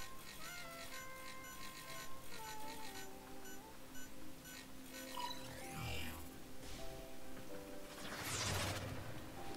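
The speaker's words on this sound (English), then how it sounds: "Trigger the alarms now, and they will start destroying the data." Alarms go off during a video game mission as data starts being destroyed: repeating electronic tones and beeps layered over game effects, with a sharp crash and sweeping burst near the end.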